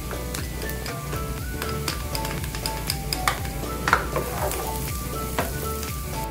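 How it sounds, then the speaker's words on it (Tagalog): Onion and garlic sauté in hot oil for a bangus curry, with a constant close sizzle punctuated by sharp clinks and scrapes of a utensil against the pan. "Lagyan tayo ng oil. Bibisa na tayo. Unahin natin ang sibuyas. And then, sunod natin ang bawang."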